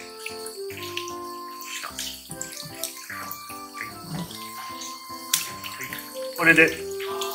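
Tap water runs and splashes as a pike conger eel is rinsed under it, with intermittent wet handling noises. Quiet background music plays throughout, and a voice speaks briefly.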